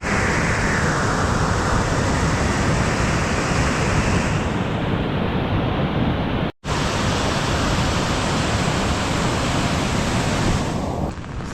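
The flooded, rising Beas river in the Kullu Manali area rushes loudly and continuously as broadband roaring water with wind buffeting, briefly cut once near the middle, no voices.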